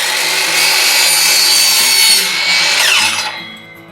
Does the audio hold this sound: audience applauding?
no